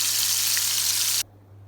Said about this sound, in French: c'est la cuisson de la deuxième face